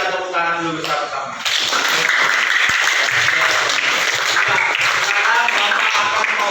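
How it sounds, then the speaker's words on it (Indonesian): A classroom of students claps together in a sustained burst of applause that starts after a brief lead-in and holds steady and loud to the end. "mari kita tepuk tangan dulu bersama-sama"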